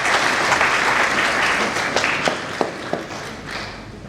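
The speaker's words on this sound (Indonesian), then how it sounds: "Kita berikan aplaus dulu untuk seluruh orang tua dan keluarga yang" Applause at a graduation ceremony of Politeknik Kelautan dan Perikanan Kupang, honoring the graduates' parents and families. A large crowd claps in a dense, steady wash, with a few sharper claps standing out near the end.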